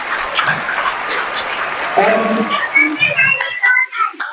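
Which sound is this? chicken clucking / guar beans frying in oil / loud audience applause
loud audience applause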